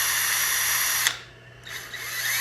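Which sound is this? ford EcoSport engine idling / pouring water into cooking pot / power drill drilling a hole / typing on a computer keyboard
power drill drilling a hole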